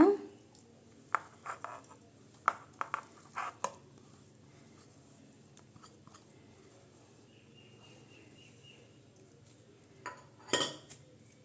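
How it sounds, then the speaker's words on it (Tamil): Grated coconut goes into a mixer jar for coconut chutney with a few light clinks and taps, scattered and close, over a faint quiet background. "இப்போ ஜாரில் தேங்காய் சேர்த்துக்கலாங்க"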